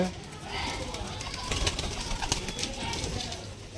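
Domestic pigeons cooing inside a room, soft repeated coos half-buried in a dense, hissy background with faint voices nearby.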